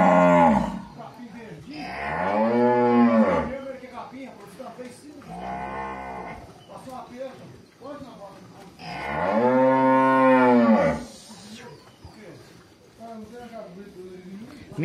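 Cows in a corral during hand milking low loudly and repeatedly, with long, deep moos close by and short pauses between them, and people talk in the background.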